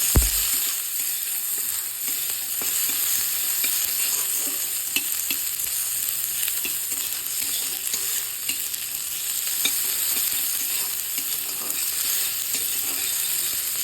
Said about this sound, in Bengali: এগুলোকে এখন আমি একটু লাল লাল করে ভেজে নেব